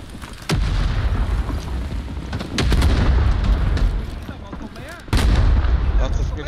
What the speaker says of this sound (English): grenades going down